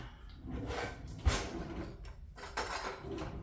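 A kitchen drawer slides open and cutlery clinks faintly as a spoon is fetched while making homemade molded chocolate heart pops, with soft clattering close by and one sharp knock.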